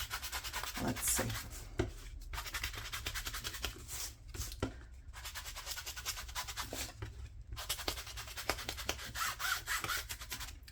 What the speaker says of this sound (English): I'm also going to distress this part because we are making a grungy one.